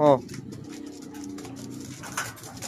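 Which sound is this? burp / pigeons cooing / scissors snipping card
pigeons cooing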